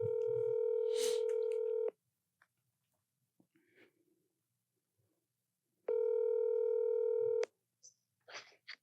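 A telephone dialing out: two long, loud electronic tones, each about two seconds, separated by a quiet gap, with faint clicks and brief voice fragments toward the end.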